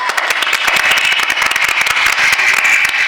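A theatre audience at a Marathi stage drama bursts into sustained, loud, dense applause, with many hands clapping steadily and evenly for the whole stretch.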